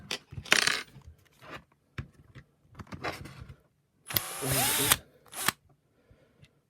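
A screw is undone on a Shark Stratos IZ400 power nozzle floor head with a powered driver, heard as several short whirring bursts and one longer burst, mixed with clicks and handling noises at close range.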